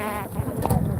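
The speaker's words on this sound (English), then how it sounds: "these are Africanized honeybees" Swarming Africanized honeybees buzz close by in a brief burst, a dense, wavering drone of many wings with no talk over it.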